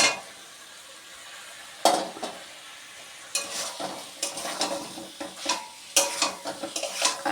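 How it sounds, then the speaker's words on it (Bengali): Pre-fried potatoes are sautéed in a pan with mutton in its separated oil for a curry, a soft sizzle broken by repeated loud scraping and clanking stirs against the pan, with no talk. "আলুগুলো দিয়ে আমি মিনিট 2 কষাবো"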